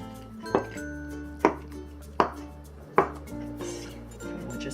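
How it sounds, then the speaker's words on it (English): A knife chops tofu into cubes on a cutting board for Sichuan mapo tofu, four sharp evenly spaced strikes over a low steady background hum. "And for the tofu, we'll cut it into chunks."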